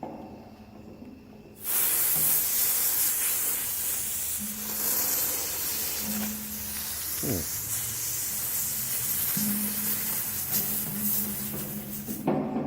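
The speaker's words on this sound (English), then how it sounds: "There's a lot of liquid coming out of there" Liquid propane sprays out of an open valve as a sudden loud, steady hiss that starts abruptly and holds for about ten seconds before cutting off, with faint clanks underneath.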